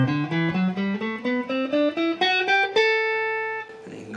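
An electric guitar plays an ascending Dorian-mode scale run in three-note-per-string patterns over a looped vamp, the notes quick and clear, ending on a sustained note.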